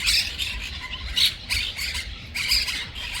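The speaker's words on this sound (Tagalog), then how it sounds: "Mga loro ang dami oh." A flock of parrots at their nest squawks loudly and repeatedly in harsh, overlapping bursts. The calls are nearby and rough, with no talk over them.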